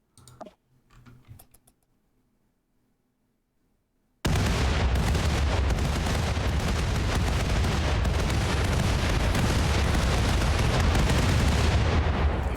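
Laser weapons in a space piracy video game open fire after a near-silent start with faint clicks, then a loud, dense barrage of crackling, booming blasts runs without pause to the end.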